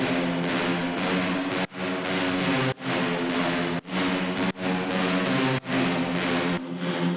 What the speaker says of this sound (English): And then we have like the Serum synth brass that sounds like